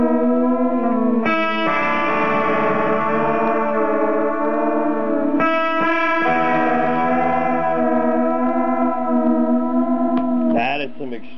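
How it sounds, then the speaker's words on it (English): Distortion switched on in a Rocketride First Echo on the Moon echo delay pedal, turning a sustained, harmonically rich guitar tone into a loud, buzzy, echoing wash with abrupt swells and a closing pitch-shifted warble. "Let's turn on a little distortion."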